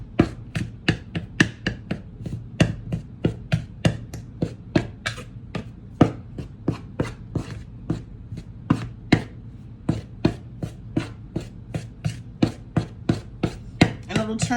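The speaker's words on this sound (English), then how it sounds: "I'm just going to start chopping the butter into the flour" A knife chops butter into flour rapidly and steadily on a board, dozens of crisp, evenly spaced strikes continuing without pause, close and clear.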